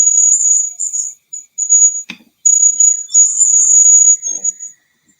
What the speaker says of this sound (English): Tell me if you hear the little beep again.